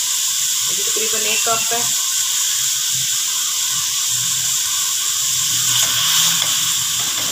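Finely chopped cabbage fries in a pan over a medium flame for macaroni, giving a steady hiss and sizzle beneath someone speaking, with a few utensil scrapes and clinks.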